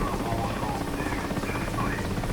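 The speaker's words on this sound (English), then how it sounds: "let's request takeoff and then just do a rolling takeoff here in the MI-8" A Mi-8 helicopter in the DCS flight simulator holds a steady, loud rotor and turbine drone while preparing for a rolling takeoff, continuous and unchanging throughout.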